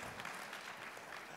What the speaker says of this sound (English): I thought we'd get applause for cheese, guys.